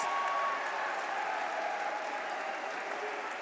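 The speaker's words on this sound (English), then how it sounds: "A big cheer from their supporters." Supporters at a school rugby final between Christ's College and St Thomas give a broad, sustained wash of applause and crowd cheering that stays strong and gradually eases.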